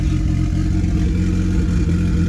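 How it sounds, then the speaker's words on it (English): A boosted Honda Civic EG engine fitted with a chip idles steadily with a slightly lumpy, cammed-sounding rumble, close up and continuous with no talking. "See how she's idling with that chip?"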